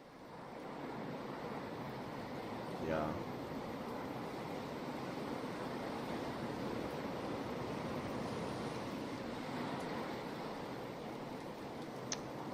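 Ocean waves wash onto the Scosglen coast in Diablo 4, a steady broadband surf with light wind that holds for the whole stretch; a brief voice cuts in once.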